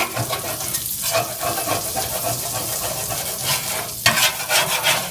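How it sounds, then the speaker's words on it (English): Butter sizzles in a pan while leftover flour is scraped loose from the bottom for a chicken piccata pan sauce, a continuous close hiss with repeated scraping strokes and a louder burst near the end. "now I'm going to add some more butter. And kind of loosen up the flour that's on the bottom of the pan."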